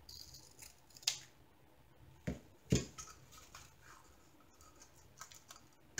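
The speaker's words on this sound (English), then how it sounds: "I think I'm actually cutting the plastic" Scissors snipping through plastic while kitting up a diamond painting, giving a few sharp, quiet cuts spaced apart with soft handling sounds between them.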